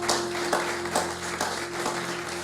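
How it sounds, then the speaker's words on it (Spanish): Church congregation applauding, a brief burst of clapping with a steady low hum underneath, moderately loud and continuous without voices. "quiero que ustedes den un aplauso al Señor y a ustedes"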